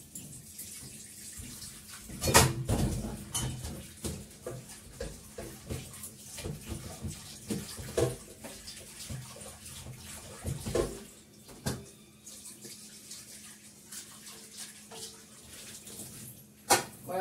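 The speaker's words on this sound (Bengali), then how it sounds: "কড়াটা ধুয়ে নিলাম" A wok is washed under a running kitchen tap, a steady trickle of water with scattered clanks and scrapes of the pan in the sink, close and moderately quiet, with no talking.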